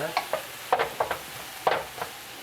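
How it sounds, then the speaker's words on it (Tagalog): Onions for ginataang kalabasa with shrimp sautéing in a pan until wilted, with a steady sizzle and a few distinct utensil scrapes and stirring clacks, close and without speech. "At hintayin po natin madurog ang sibuyas hanggang sa malanta na ang"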